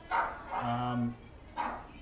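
A neighbours' dog barks outdoors, a few moderately loud, separate woofs spaced across a couple of seconds, mixed in with a person's speech.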